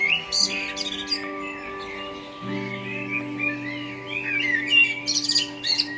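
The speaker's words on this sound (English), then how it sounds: "at this time of year, immersed in birdsong" Dawn birdsong in spring nesting season: several birds chirping and trilling in scattered bursts, some near and some farther off, over a faint steady hum, with no talking.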